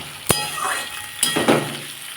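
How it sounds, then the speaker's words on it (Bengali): Flat beans, potatoes and onions frying together in oil, a soft sizzle broken by a couple of sharp utensil clinks against the pan and stirring scrapes. "আমি তেলের মধ্যে সিম আলু আর পেঁয়াজ একসাথেই দিয়ে দিয়েছি এবার এটাকে আমি ভাজবো"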